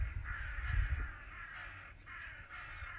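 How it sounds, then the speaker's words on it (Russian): Several crows caw in repeated harsh bursts, fairly close, with short pauses between calls and no talking. "Ну, вороны уже радостные летают."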